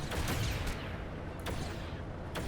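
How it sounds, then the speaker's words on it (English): Homing missile explosions and booms in the LEGO Batman video game, a dense continuous barrage of blasts with sharp repeated impacts, loud and close, with no talk. "Stop firing homing missiles at my house."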